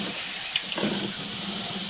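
Water rushes steadily through a pipe line with a broad, hissing flow, loud and close throughout, with a small splash or knock partway through.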